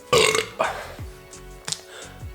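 A loud, drawn-out burp erupts up close after drinking Voodoo Ranger IPA beer, followed by a couple of shorter belching sounds.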